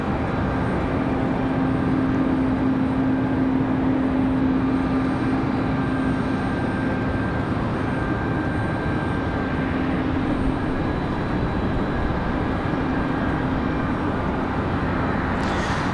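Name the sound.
Delta airliner departing at night, RDU airport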